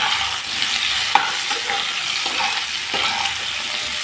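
Potatoes fry in mustard oil with nigella seeds, giving a dense, steady sizzle close by with a few faint clinks of stirring.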